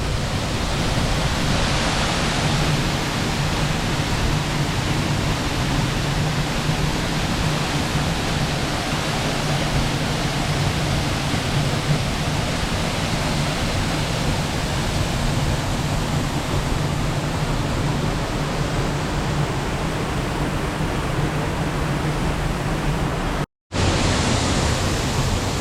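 Bjarnarfoss waterfall on Iceland's Snæfellsnes Peninsula roars as a steady, loud broadband rush of falling water, unbroken throughout apart from one brief cut near the end.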